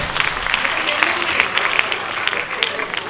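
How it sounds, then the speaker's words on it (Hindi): An audience applauds at a live quiz game event, steady clapping of many hands with a host's voice talking over it. "प्लीज जोरदार तालियां हो जाए"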